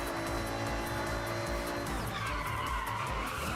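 A car in a racing video game brakes hard with a loud, continuous tire skid and squeal over a steady engine drone.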